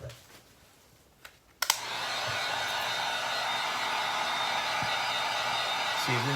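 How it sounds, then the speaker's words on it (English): Heat gun blowing on a Halloween skull prop coated in polyurethane: after a few quiet clicks and handling sounds, a steady loud blowing whir starts abruptly and runs continuously. "let me hit this with a heat gun"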